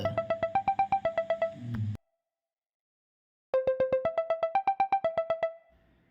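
A mobile phone ringtone plays a repeating electronic melody for about two seconds, stops, then rings again before fading out.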